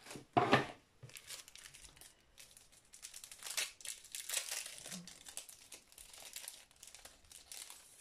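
Rummaging for a ribbon, with crinkly paper and plastic rustling and crumpling in close, irregular bursts, one loud crackle at the start followed by steady softer handling noises.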